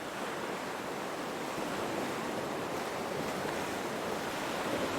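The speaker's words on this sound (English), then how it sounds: "the sounds of the ocean gently fade away" Ocean waves wash steadily against an island shore, a dense, continuous roar of surf with a soft breathy hiss and light wind, evenly loud and unbroken throughout with no voices.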